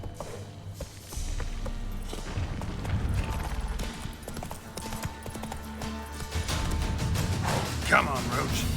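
Roach, a horse in The Witcher 3 video game, gallops in a steady run of hoof clip-clops, fairly close and continuous, with dull thuds and soft background game sounds.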